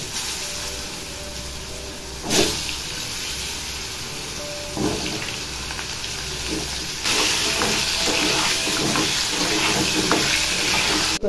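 Potatoes frying in hot oil seasoned with cumin and bay leaf, giving a loud, constant hissing sizzle that swells after a couple of sharp additions, steady and close with no talk.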